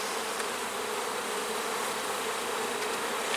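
Dense, steady buzzing of many honey bees inside a hive, a continuous close hum with no pauses and no voices.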